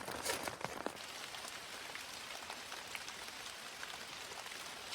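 Steady rain falls through the night, a continuous hiss of drops on surfaces with a few louder splashes near the start, moderate in level with no voices.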